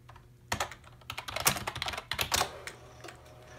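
Typing on the keyboard of an SWTPC 6800 computer running FDOS, entering text in an editor: irregular bursts of close, crisp keystrokes with short pauses between them, clearly audible with no talking.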